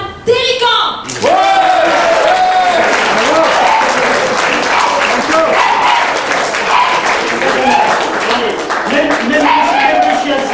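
Crowd at a small Friday concert breaking into loud, sustained applause and clapping, with shouted voices and cheers mixed in after a brief spoken introduction at the start.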